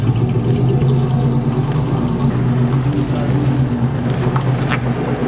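A TVR sports car engine runs at a steady, loud rumble close by, holding a constant droning tone throughout with no pauses.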